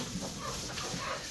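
Backyard flock of chickens with a rooster, soft clucking and low murmuring calls close by, steady and continuous over faint outdoor background.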